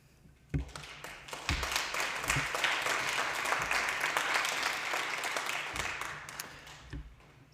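An audience at an evening community year-in-review event in Markdale, Grey Highlands, breaks into applause after a few scattered claps, a steady moderate round of clapping that tapers off with a few last claps.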